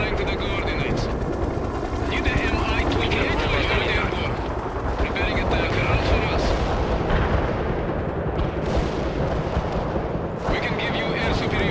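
Mi-28 attack helicopter rotor and engine roar, loud and continuous in a combat setting, with bursts that sound like gunfire or artillery mixed in and voices talking over it.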